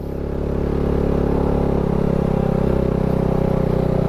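A motorcycle engine labours up a steep dry mountain road in Bacon, Sorsogon, Philippines, a loud continuous droning strain that holds steady near the rider with no talk.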